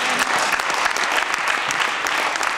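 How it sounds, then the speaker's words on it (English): A church congregation claps hands during a sermon, loud, close and continuous rapid clapping from many people filling the room. "Give me a clap of hand."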